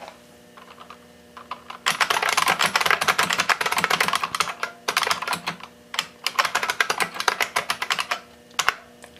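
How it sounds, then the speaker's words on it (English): Typing on a 1993 IBM Model M buckling spring keyboard, a fast, loud stream of crisp clacking keystrokes up close, broken by short pauses and a few isolated key presses near the end. "this is what it sounds like when you type on a Model M."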